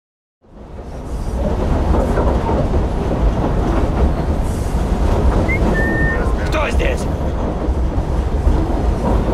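A train in the video game Assassin's Creed Syndicate rumbles steadily and loudly throughout, with a brief metallic whistle or screech near the middle, while voices talk faintly over it.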